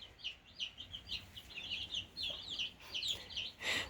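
A group of about 28 young chickens peeping and clucking continuously, with high chirps coming in rapid overlapping bursts at close range and a louder squawk near the end.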